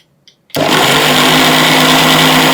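A kitchen mixer grinder, lidded and blending chutney with added water, starts abruptly after a brief quiet click and then whirs at a loud, steady high-pitched roar close by.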